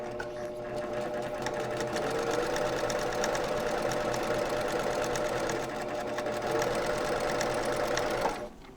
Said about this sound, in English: I'm at the machine and I want to stitch on the outside of this line